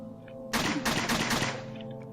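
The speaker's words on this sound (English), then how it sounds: "I'm going to spam gunfire at them" Rapid bursts of video game gunfire in a fantasy shooter, a dense second-long volley of loud, overlapping shots cutting in abruptly and stopping just as suddenly over a low steady background hum.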